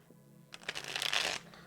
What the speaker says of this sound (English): Do another shuffle here